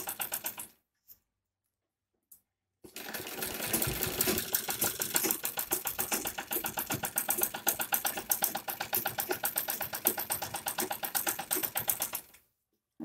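An electric sewing machine stitches piping onto fabric for a kurti. A brief start and a pause lead into about ten seconds of fast, steady, rhythmic needle clatter, close and continuous, then it stops.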